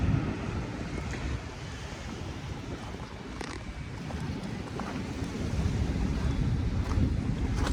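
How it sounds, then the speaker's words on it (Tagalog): Strong wind roars against the microphone while waves break continuously along the shore of Manila Bay at Dolomite Beach, a steady loud rumble that swells toward the end, with no voices. "Kahit na medyo malakas ang hangin, malakas ang alon."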